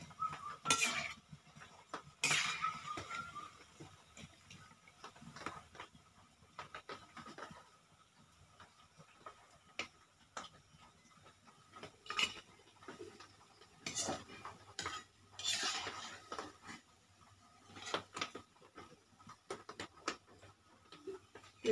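Fried onion fritters (piyaji) are lifted out of a pan with metal utensils, giving scattered clinks, scrapes and taps against the pan at irregular intervals over a quiet background.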